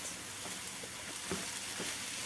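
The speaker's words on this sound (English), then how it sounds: "start to hear that sizzle at the bottom of the pan" Split peas fry with a quiet, steady sizzle that crackles in a pan, soft and continuous with faint stirring clicks.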